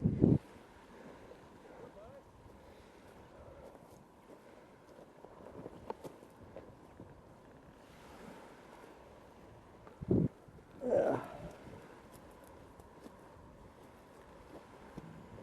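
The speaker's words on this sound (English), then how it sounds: "See a decent wind on the tree up there." Wind blows steadily outdoors near a tree, a broad, continuous rushing that buffets the microphone, with a few brief louder gusts or bumps.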